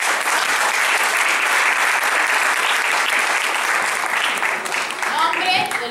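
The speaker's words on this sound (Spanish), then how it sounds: "Aplaudimos." Theatre-forum audience breaking into steady, dense applause that fills the space at close range, with a few voices rising faintly near the end.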